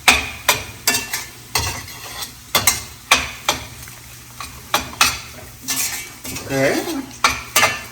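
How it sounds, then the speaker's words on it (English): Tomatoes go into golden frying onions for Indian chana masala and get stirred, a spoon scraping and clinking against the pan in steady repeated strokes over a soft sizzle, close and clear, with one brief spoken word. "So you can put the tomatoes now and increase the heat."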